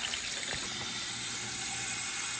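Water pours steadily out of a pot of hot boiled eggs into a sink, a continuous close splashing gush without pause for the whole moment.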